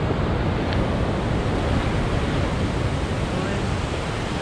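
Ocean surf on the beach at Praia do Foguete in Cabo Frio, a steady broadband wash of waves with wind, loud and continuous throughout with no talk.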